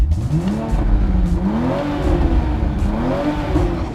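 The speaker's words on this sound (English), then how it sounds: "the engine in sport mode for rapid response and a louder exhaust noise" A 2020 Toyota Supra engine in sport mode revs loudly up and down, its exhaust droning and rising in pitch, close by with no voices.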